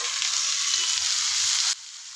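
Raw mango pieces hit hot oil already tempered with dried red chillies and whole mustard seeds, giving a strong, steady hissing sizzle that suddenly drops to a softer hiss near the end.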